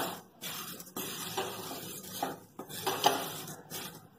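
Poha being dry-roasted in a pan over a low flame, with repeated soft scraping and light metallic clinks of a stirring utensil against the pan, fairly quiet and close.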